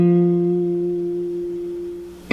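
An electric guitar sustains a single bent, ringing note from a riff, clean and steady as it slowly decays, then a fresh pick attack strikes near the end.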